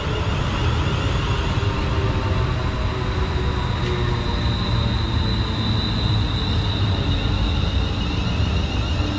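A passenger train arrives at a station platform on a West Coast Main Line branch, its steady rumble and rolling wheel noise filling the scene, with a faint high squeal near the middle.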